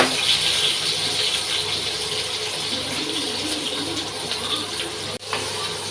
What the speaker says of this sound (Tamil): நம்ம அந்த புளி கரைசல் ஆட் பண்ணிக்கலாம்